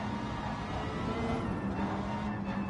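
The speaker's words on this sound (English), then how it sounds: "You can hear Paul's car in the background." A race car engine in a racing video game drones steadily in the background, a dense, continuous roar with a faint tonal hum and no clear revving or passes.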